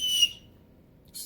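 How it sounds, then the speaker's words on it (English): Shrill blasts from a small whistle on the end of a survival watch cordage wristband, one short burst then a pause and another starting, close and piercing with no talk. "these come with a whistle. This is a whistle on the end of here. And you just blow"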